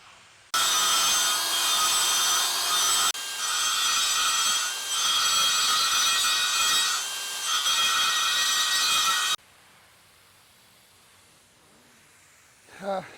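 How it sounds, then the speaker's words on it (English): A die grinder screams against metal on a Harley-Davidson chopper, a loud, close, high-pitched whine with brief dips in pressure for several seconds before cutting off, followed by near-quiet and a faint knock. "So I'm gonna mill in on it, or hone it in, or die grind it in."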